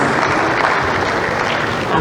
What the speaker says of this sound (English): Resounding applause will be very much in order.